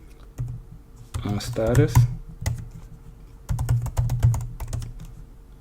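Keys clatter on a computer keyboard as a terminal command is typed in Ubuntu Linux, in two quick bursts of clicks with a person speaking in between.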